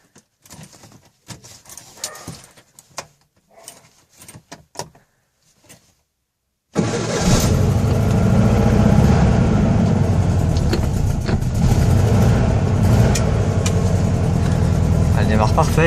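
A car engine starts from cold after some quiet clicks and handling noises. It catches abruptly and settles into a loud, steady, close idle that runs to the end.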